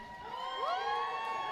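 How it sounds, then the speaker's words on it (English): A junior roller derby playoff crowd in Columbia, SC gives a brief burst of cheering, with high whoops and shouts rising over a soft, fairly faint crowd roar. "If you're excited to be watching roller derby, please cheer."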